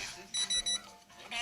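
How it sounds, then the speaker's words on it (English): A microwave oven beeps three times in short, evenly spaced high tones, fairly quiet over a soft background hiss. "the beeping of your microwave"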